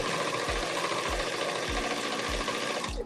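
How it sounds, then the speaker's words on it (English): A sewing machine stitches the hem of a top with a fast, continuous whir and a regular low thump about twice a second, close and loud, stopping abruptly at the end. "I'm doing the hem now"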